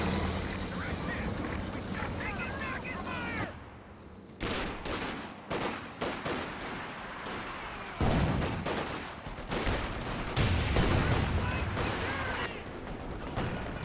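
A volley of tank gunfire in Company of Heroes 2, with a series of sharp booming blasts and scattered explosions over battle noise, while a commentator talks excitedly throughout.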